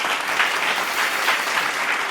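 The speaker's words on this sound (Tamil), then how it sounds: "கைத்தட்டுங்க." A church congregation at a Tamil Sunday service claps their hands, giving dense, steady applause at close range that fills the whole stretch without pause.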